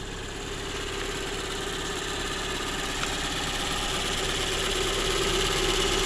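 A Daewoo Matiz engine idles steadily with a faint rapid ticking and knocking from the hydraulic lifters running through its low hum, constant and close, with no voices.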